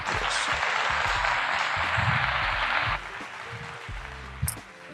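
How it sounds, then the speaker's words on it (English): Audience applause rises as a dense, steady wash over a thumping beat for about three seconds, then drops away and leaves the music playing more quietly. "Round of applause for that."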